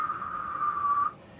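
A person whistles a single steady, pure, sine-like tone for about a second before it cuts off, clear and close.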